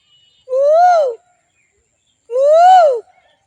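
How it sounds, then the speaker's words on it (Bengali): Asian koel calling in a green rural setting with ducks and coconut palms nearby: two clear, rising-then-falling whistled notes about two seconds apart, close and prominent against otherwise quiet surroundings. "কোকিল ডাকছে।"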